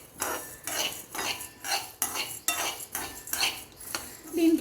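Jumbo coriander seeds being stirred in a pan, giving repeated scraping, rattling strokes of a spoon against metal in a steady rhythm, close and fairly loud with no talking.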